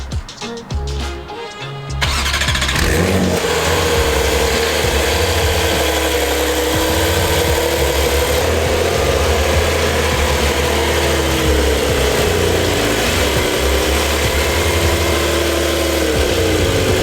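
A Porsche 992 911 Carrera S with a seven-speed manual gearbox starts up after a brief moment, then its engine idles and revs loudly and close by, with a steady rumbling drone and a few rises in pitch.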